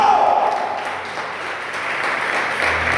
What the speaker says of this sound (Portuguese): levanta a mão e aplauda o Senhor